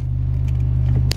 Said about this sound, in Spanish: inmediatamente el carro se me va hacia adelante